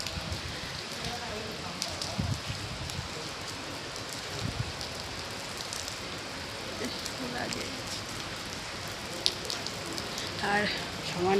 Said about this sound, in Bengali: আর সমানে বৃষ্টি হয়ে যাচ্ছে সকাল থেকে